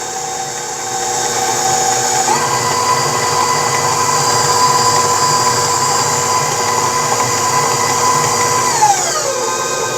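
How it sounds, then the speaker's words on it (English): A stand mixer beats cake batter with a steady, loud motor whine that shifts pitch up and later drops as the speed changes, running continuously with no talking. "That way we don't overwhelm the mixer or get clumps and lumps."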